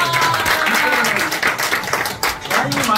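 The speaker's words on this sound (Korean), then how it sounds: "박수 한번" Audience at a year-end gathering of a Korean instructors' association breaks into brief applause, clapping dense and close while voices talk over it.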